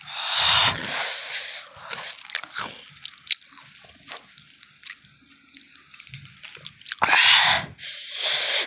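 Someone bites and chews homemade spicy Jolo chips up close, with crunchy, wet bursts at the start and again near the end and quieter chewing in between, no talking.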